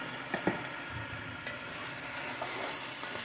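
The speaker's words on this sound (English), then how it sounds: "I'm going to throw our squash in." Chunks of kabocha squash knock into a hot pan with a couple of close thuds, then a steady sauté hiss builds and grows louder toward the end.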